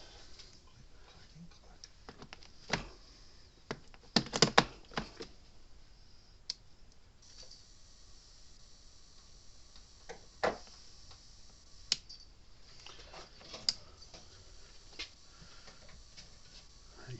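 A Cyclops Boss electric fence charger under repair cycles with faint, irregular ticks and sharper clicks scattered over a low steady hum, a brief cluster of stronger clicks early on, and some quiet talk in the background.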